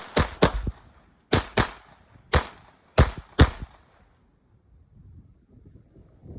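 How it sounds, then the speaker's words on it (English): Seven sharp gunshots from an Erma LA22 .22LR pistol crack out in uneven pairs and singles over about four seconds, loud and close, followed by a quiet stretch of wind and faint outdoor rumble. "Just shot a pretty good group with this gun."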